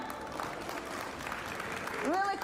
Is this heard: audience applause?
yes